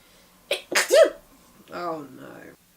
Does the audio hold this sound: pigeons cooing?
no